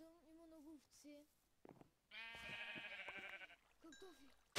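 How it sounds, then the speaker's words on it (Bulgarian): Sheep bleating in the Minecraft video game, a few short wavering bleats spaced over several seconds with other game sounds between them, fairly clear and not under talk. "Тук виждам, има много овце."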